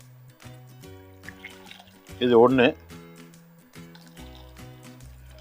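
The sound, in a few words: water poured from a glass over tomatoes for rasam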